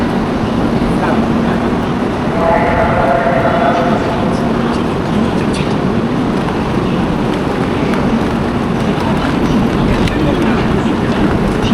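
Inside a moving Chinese bullet train, a steady broadband rumble and airy rush of travel noise fills the cabin throughout, with faint passenger murmur underneath.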